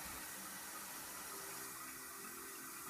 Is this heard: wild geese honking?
no